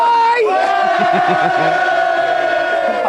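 Christmas crowd in Cardiff cheering and shouting together, a loud sustained roar of many voices with rising yells, close and continuous throughout.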